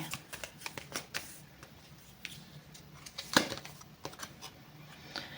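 Tarot cards being shuffled close by, a run of soft papery riffles and taps with one sharper snap partway through, over quiet room tone.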